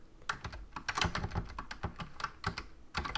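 Rapid, uneven keystrokes clatter close up on a computer keyboard while C++ code is typed, in quick bursts with brief pauses between.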